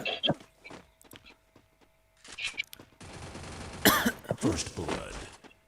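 Video game gunfire cracks in short bursts of rapid shots, with quieter gaps between, along with a voice speaking close by.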